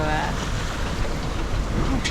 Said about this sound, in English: The waves have started to chill out a little bit